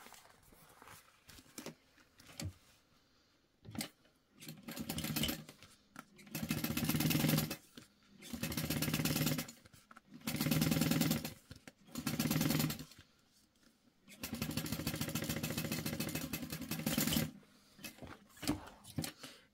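Domestic sewing machine top stitching the seam of a Quartz clutch bag that uses clear and jelly vinyl, running in several bursts of steady whirring with pauses between runs, close and moderately loud.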